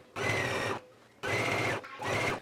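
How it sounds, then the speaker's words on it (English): Sewing machine stitching the inner leg seams of a garment, in three loud runs of fast mechanical whirring, the second and third close together, separated by short quiet pauses. "take it to the machine and sew both of the inner leg seams in place now"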